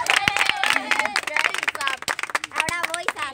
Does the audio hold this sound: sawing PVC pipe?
no